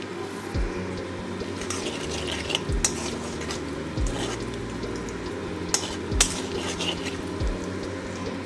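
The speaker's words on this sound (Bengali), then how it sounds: "এবারে ওই একই তেলে দিয়ে দেবো সামান্য সাদা জিরে, একটা তেজপাতা, একটা শুকনো লঙ্কা।" Cumin seeds, a bay leaf, a dried chilli, cinnamon, cloves and cardamom fry in hot oil in a pan, giving a steady, close sizzle with occasional light stirring knocks and utensil clinks.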